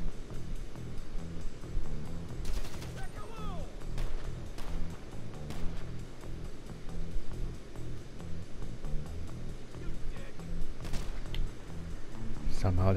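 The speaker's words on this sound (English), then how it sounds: "Somehow it's shooting me through the van." Gunfire from enemies shooting through a van during a GTA Online motorcycle club resupply mission, with sharp shots scattered over a busy game mix and a voice talking throughout.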